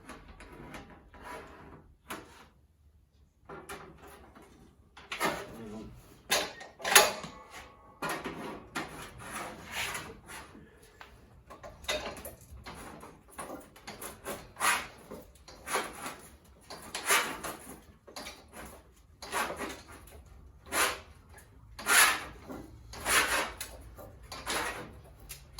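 Shrinking work on a rust-repaired metal roof panel of a Datsun 240Z brings repeated short scraping and rubbing strokes, irregular but continuous, close by, with a few brief pauses between bursts.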